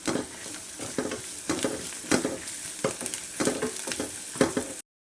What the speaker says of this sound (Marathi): पूर्ण हलवून घ्यायचं त्याच्यानंतर गूळ घालायचा आहे